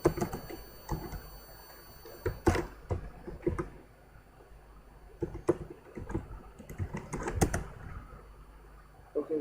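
Uneven bursts of key clicks from typing on a computer keyboard, close and fairly quiet, with short pauses between runs of keystrokes.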